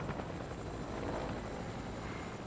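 Helicopter in the video game Fortnite, a continuous loud rotor thrum and engine roar that stays steady and close throughout, with no talk over it.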